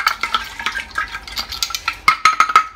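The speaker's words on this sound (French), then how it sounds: "Je vais mélanger encore un coup." Lemonade with sugar being stirred in a large jar, a rapid rhythmic series of close clinking and swishing strokes, growing sharper and more ringing toward the end.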